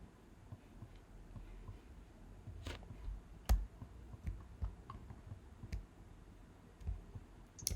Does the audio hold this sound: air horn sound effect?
no